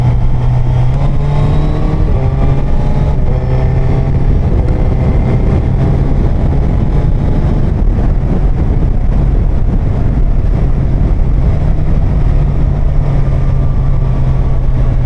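Motorbike engine revving steadily while riding, a continuous loud drone with rising and falling pitch sweeps, buffeted by heavy wind noise throughout, with no talk.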